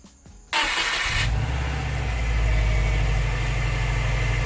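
A car engine starts with a brief crank and then settles into a steady, rumbling idle, close up and continuous with no talking.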